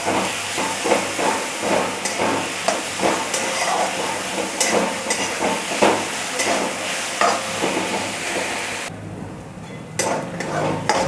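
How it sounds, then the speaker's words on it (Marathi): Dried fish and brinjal fry in oil with a loud continuous sizzle and hiss while a spoon stirs and scrapes the pan in irregular strokes, with a brief quieter gap near the end; no one speaks. "आता आपण हे सर्व घालून घ्यायचे तेलामध्ये फ्राय करून घ्यायचे जोपर्यंत सुकट आणि वांग एक नाही होत तोपर्यंत हे हलवत राहायचं"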